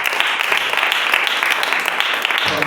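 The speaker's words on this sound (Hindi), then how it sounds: "फिर से आप ताली दे सकते हैं।" A church congregation claps steadily and densely during a worship service, a continuous wash of many hands applauding together at close range without a break.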